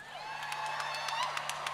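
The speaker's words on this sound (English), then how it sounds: "Can we hear a round of applause for Dave Howley here?" Audience at the Milwaukee Irish Fest At Home 2020 concert cheers and whoops for guitarist Dave Howley, a steady wash of crowd noise with scattered claps and shouts, fairly distant and continuous.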